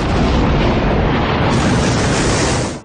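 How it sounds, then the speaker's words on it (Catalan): A loud bomb explosion booms out as a single massive blast, its rumbling roar sustaining for nearly three seconds before cutting off abruptly, with no voices present. "una gran explosió."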